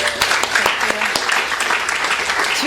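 Applause for a reading host at a literary magazine launch event, a moderate audience clapping steadily with scattered sharper claps and crowd murmur beneath.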